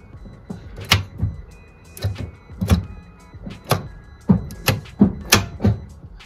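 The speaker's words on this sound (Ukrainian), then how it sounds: "Зараз помічник буде перемикати передачі." Repeated mechanical clicks and thunks come from the gear selector of a Citroen C-Zero as it is shifted, about a dozen sharp, close snaps in an uneven rhythm over a quiet background.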